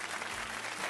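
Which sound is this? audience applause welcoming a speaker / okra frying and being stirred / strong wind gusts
audience applause welcoming a speaker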